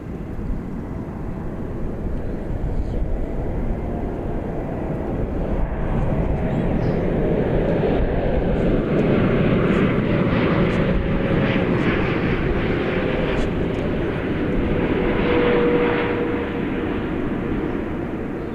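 A heavy Boeing 747 landing at night at DFW International Airport gives a loud, sustained jet roar that swells and holds, with a radio voice faintly heard over it.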